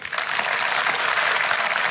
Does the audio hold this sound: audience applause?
yes